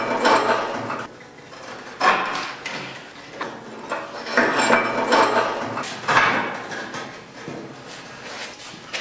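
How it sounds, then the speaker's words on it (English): A hammer taps steel plates into place on 3-inch angle iron while a welding workbench is built, giving a series of irregular metallic knocks and clanks with short pauses between groups. "Take your hammer, you will need to tap your plates around a little bit."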